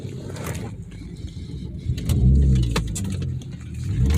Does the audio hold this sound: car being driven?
yes